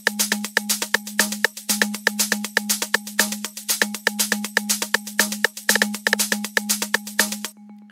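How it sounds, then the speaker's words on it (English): Drums group from an Afro House track in Ableton Live, a busy loop of dense hi-hats, shakers and percussive hits over a low steady tone, driving and even, then cutting out near the end. "And then the drums group sounds like this."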